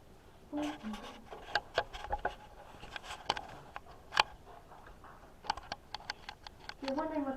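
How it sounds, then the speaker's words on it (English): A dog runs around indoors while someone cooks, its paws pattering as quick, light clicks and taps scattered unevenly across the floor, faint and close, with people talking over it. "It is our dog Jayla Dawn."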